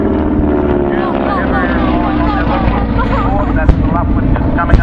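A Focke-Wulf warplane drones overhead at a country airshow, its engine a steady, loud, rumbling roar, with an announcer talking over it.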